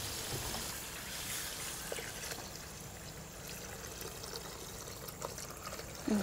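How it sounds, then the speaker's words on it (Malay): Water pours into a pot of cooked chicken for curry noodle broth, a steady splashing trickle that fills the pot at close range with small clinks, no talking. "Masukkan air."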